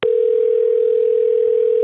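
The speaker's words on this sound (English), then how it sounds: "Somebody answer the phone." A telephone ringback tone sounds while a call waits to be answered: one loud, steady electronic tone lasting about two seconds, alone and unbroken.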